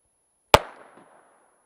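A single sharp crack from a Ruger SR22 pistol fired double action at a triangle target, close and loud, with a short decaying echo afterward and nothing else.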